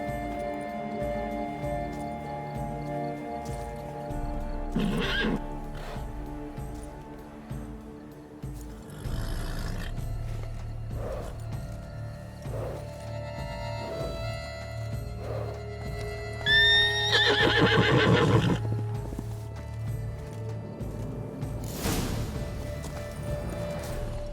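Roach, Geralt's horse in The Witcher 3: Blood and Wine, gives a sharp, close whinny midway through. Scattered hoof clops and snorts sound over a sustained musical score and ambient game sounds.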